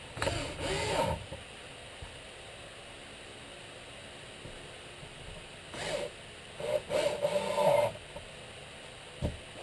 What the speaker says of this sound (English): I'm just going to screw this right down.